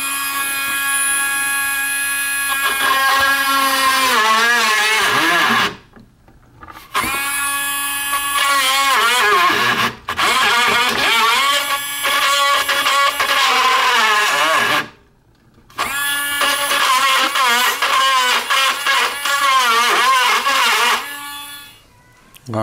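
A battery Dremel rotary tool cuts a hole into the cabinet of an arcade claw machine, a loud, steady high-pitched whine that runs in long bursts broken by brief pauses.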